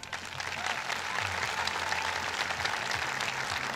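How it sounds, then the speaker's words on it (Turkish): Audience applause at a culture and arts festival in Gerze honours two musicians, a saz player and his teacher. Steady, full clapping from a large crowd runs for the whole stretch without any voices. "İkisine alkış istiyorum."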